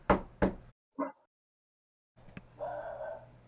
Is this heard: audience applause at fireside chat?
no